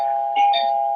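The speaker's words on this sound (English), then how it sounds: "And that's my doorbell." A home doorbell rings with one clear, fairly loud electronic chime tone over a steady hum. No one talks.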